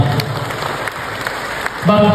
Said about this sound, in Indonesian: Yang percaya beri tepuk tangan untuk kemuliaan Allah.